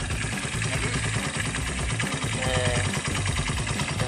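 Steady, fairly quiet idle of a 2010 Honda Tiger Revo motorcycle with a 213 cc engine, a continuous mechanical chatter and hum heard up close without revving.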